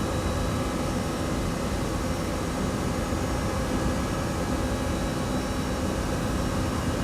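Cockpit noise of an Airbus A320 climbing after takeoff, a steady loud broadband rush of airflow and engine hum that holds constant throughout with no talk.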